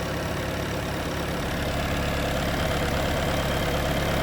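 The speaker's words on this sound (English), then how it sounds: "Runs nice and clean, zero blow-by issues. That's inline, 5-cylinder, and it runs great." A 2021 Bobcat T66 skid steer's inline five-cylinder diesel idles steadily close by, an even low rumble with a faint knocking texture and no talking.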